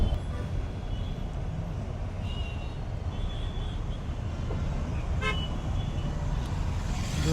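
Busy road traffic heading toward Vandalur near Chennai, a constant rumble of engines with several short horn toots breaking through, mid-distance and fairly loud, no talk.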